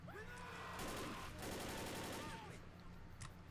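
Gunfire in Left 4 Dead, dense rapid bursts of automatic shots in two loud volleys with short pauses, alongside game sound effects and a voice speaking.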